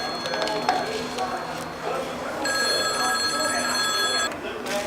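A telephone rings with a steady electronic trill in the second half, sustained for a couple of seconds amid room noise and background activity.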